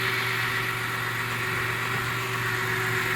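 Holden Rodeo V6 engine idling after a timing chain job without new gears, a steady even hum with a faint whining tone from the timing gears, no voices.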